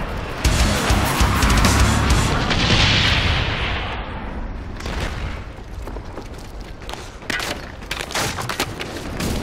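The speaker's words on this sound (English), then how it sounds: "Friendly napalm strike on the way." Napalm strike in Call of Duty: Black Ops team deathmatch on the Villa map, a loud sustained roar of fiery explosions and a whooshing sweep early on, followed by scattered gunfire and booms.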